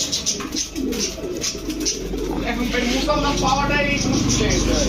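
Pigeons coo repeatedly at a busy pigeon market, their soft rolling calls close by and mixed with a steady background hum and occasional voices.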